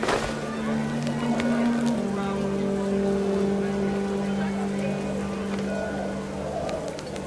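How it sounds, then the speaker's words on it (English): Heavy rain in What Remains of Edith Finch, a steady, dense hiss of downpour drumming on surfaces throughout, with a low sustained tone underneath. "The rain came down in buckets then"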